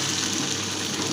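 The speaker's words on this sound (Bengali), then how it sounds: "তো এখন আমি নুডলসটাকে একটু বেশিক্ষণ রেখে ভাজা ভাজা করে নেব।" Noodles fry in a pan with a steady, close sizzle and soft crackle, an even hiss holding at moderate level with no talk over it.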